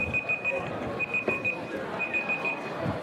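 A high electronic timer beeps in quick bursts of pulses, moderately loud, over a murmur of a crowd talking in a lecture room.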